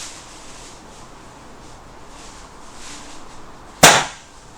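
A single sharp air rifle shot cracks close by near the end, after a stretch of quiet ambient noise with faint murmur, with a short decay after the report.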